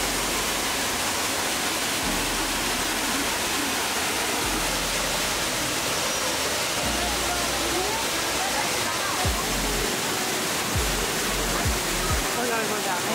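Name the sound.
Düden waterfall in Antalya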